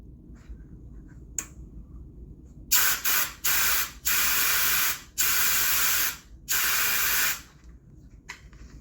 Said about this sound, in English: I hook it up into my air hose, right? And put a pressure there